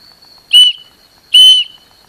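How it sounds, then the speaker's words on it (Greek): A survival whistle from a Victorinox kit gives two short, shrill, loud blasts about three-quarters of a second apart, each around a quarter-second long, against near silence. "είναι η σφυρίχτρα"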